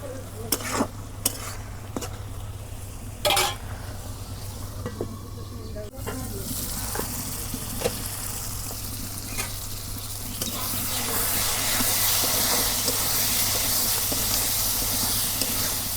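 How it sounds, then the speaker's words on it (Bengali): Beef sizzles and crackles in a hot pot as it is stirred and sautéed, a steady frying hiss that grows louder and denser toward the end, with occasional utensil scrapes. "পানি দিয়ে ভালো করে কষে নিব মাংসগুলো।"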